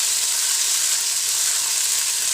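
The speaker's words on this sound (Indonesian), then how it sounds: "Tumis sampai cabai ini layu," Chili frying with shallots and garlic in hot oil, a dense, even sizzle heard up close with no talking.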